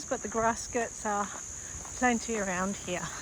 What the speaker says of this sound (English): Cicadas making the noises